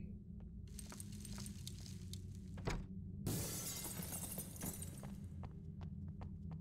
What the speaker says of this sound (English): So I heard broken glass.